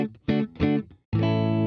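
Electric guitar with a P90 and a humbucker, played clean through the middle pickup position with no effects or reverb: a few short plucked chords, then one loud sustained strum ringing out.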